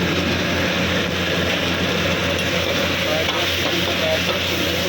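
Fried chicken being stirred with chilli paste in a pan: a loud, continuous sizzling hiss close up, with faint scraping of the stirring underneath, no voices.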